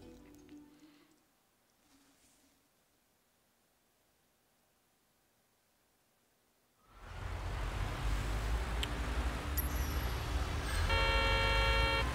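In the video game Sleeping Dogs, a car horn sounds a sustained honk near the end, over a loud rushing roar of driving that replaces an earlier near-silence.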